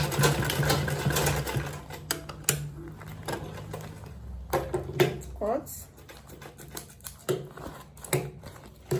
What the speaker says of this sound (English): this is the final stage. I'm going to back stitch.